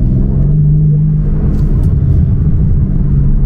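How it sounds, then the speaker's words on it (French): A BMW M4 Competition G82 with a stage 2 exhaust in sport mode, rumbling loudly and deeply at idle and light throttle, close and continuous, with faint crackles. "là on est en mode sport donc c'est ouvert, on entend un tout petit peu de retour, ça pétarade"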